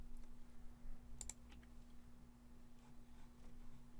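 Computer mouse clicks come as a few faint, quick taps, with a sharp double click near the start, against a quiet background with a steady electrical hum.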